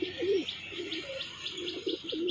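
A female domestic pigeon, a home-bred tumbler that has laid one egg, gives repeated soft cooing calls in a steady rhythm, close and fairly quiet, with faint chirps in the background.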